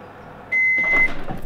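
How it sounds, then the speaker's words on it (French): A microwave oven cooking diced aubergine hums steadily, then a sustained electronic beep tone sounds for about half a second, followed by louder rumbling and sizzling close by. "C'est parti pour la cuisson au micro-ondes pendant 4 premières minutes."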